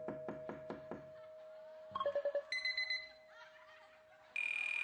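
An electronic doorbell-like chime rings out in steady tones, then several sharp knocks land in quick succession, followed by more electronic beeping tones.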